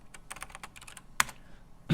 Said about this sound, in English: I don't have to keep typing these things in.